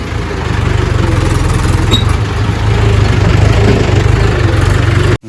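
Tractor engine idling close by at a brick kiln, a loud steady low rumble with a regular pulsing beat that runs without a break and then cuts off abruptly at the end.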